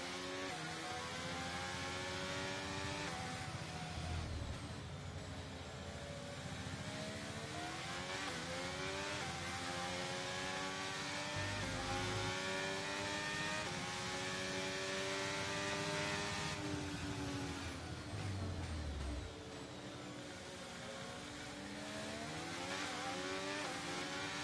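Race car engines whine and rise through the gears in a racing game at the Portimão circuit. The engines are heard from a distance, several cars overlapping with steady pitch sweeps, and they stay fairly faint throughout.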